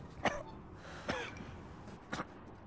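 Three separate raspy coughs from a character in the video game Resident Evil Village, spaced about a second apart, sound close over a faint background hiss.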